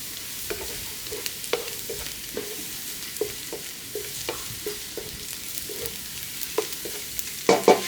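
Food fries in a pan until lightly golden brown, with steady soft sizzling broken by repeated sharp clicks and scrapes of stirring, growing slightly louder near the end.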